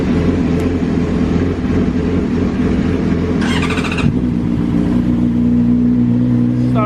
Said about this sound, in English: Let's start up some bikes then.